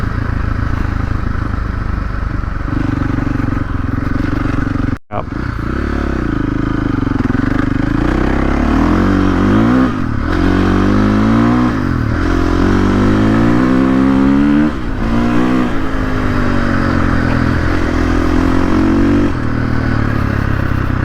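A 2023 KTM 450SXF dirt bike with a stock engine map rides a trail, its single-cylinder engine droning loud and close throughout, rising and falling in pitch as the rider revs through the gears, with a brief cut near five seconds.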